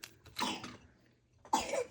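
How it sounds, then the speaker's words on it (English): A boy coughs twice, short harsh bursts about a second apart, close and fairly quiet. "That is my son coughing"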